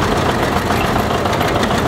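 A John Deere 720 tractor idles at a tractor parade with a loud, steady low rumble, heard up close.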